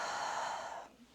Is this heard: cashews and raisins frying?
no